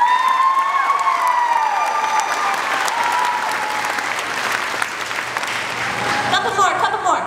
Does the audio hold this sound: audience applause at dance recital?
yes